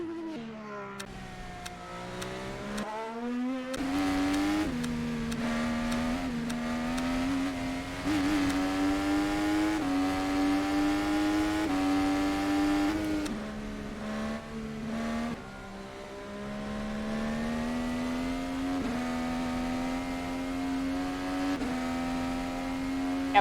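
A race car engine drones steadily as the car laps a track, its pitch rising and falling through gear changes and brief lifts off the throttle. It holds close and fairly loud for the whole stretch, with no talking.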